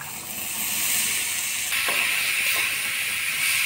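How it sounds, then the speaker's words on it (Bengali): Boiled chickpeas and potatoes go into hot spices in a pan, giving a steady, close hissing sizzle that swells and brightens partway through, with faint clinks of stirring. "এবার ছোলা আলু দিয়ে দিব।"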